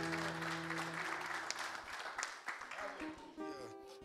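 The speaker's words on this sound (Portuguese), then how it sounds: "As palmas exaltam o nome de Jesus, né" A church congregation claps together at a prayer service, a dense burst of applause that follows fading music and runs under a voice speaking over it.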